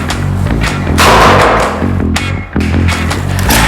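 A toy M416 blaster is fired by hand, giving a few dull, close thumps and snaps in quick succession over a loud, steady background.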